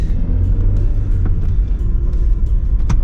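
A Volkswagen Golf 3 GTI 16V drives along with a steady, close engine rumble from inside the car and a few faint clicks and knocks over it.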